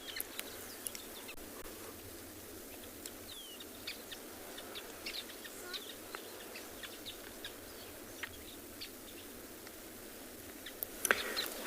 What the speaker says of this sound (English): Just watching all of these birds and listening to all these sounds